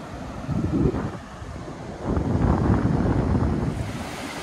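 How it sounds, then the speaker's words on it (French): Ocean waves wash in with the rising tide, a broad rushing surge swelling twice with wind buffeting the microphone, close and moderately loud. "La marée est en train de monter."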